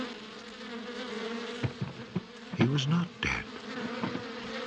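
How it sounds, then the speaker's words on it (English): Bees from a keeper's hundred hives, a steady mid-pitched buzzing drone heard throughout beneath a narrator's calm speaking voice. "now he had over 100 hives of bees"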